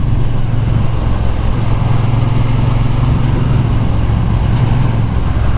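A Triumph Bonneville T120 motorcycle rides along with a loud, steady low engine drone and rushing road and wind noise, continuous throughout with no talking.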